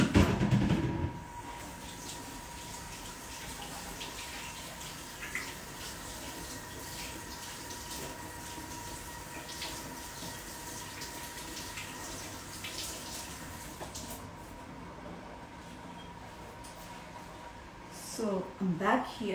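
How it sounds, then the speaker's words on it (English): A household tap runs steadily while hands are washed, a constant close hiss of water lasting the whole stretch, with a brief louder splash at the start and some shuffling near the end. "I'm just going to wash my hands."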